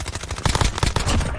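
Loud, rapid automatic gunfire from the video game Call of Duty plays as a dense burst of sharp shots that runs nearly the whole moment.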